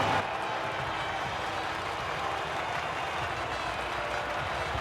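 A Formula 1 crowd at the Sao Paulo Grand Prix in F1 23 gives off a dense, steady roar of cheers and applause, broad and distant, holding at an even level throughout.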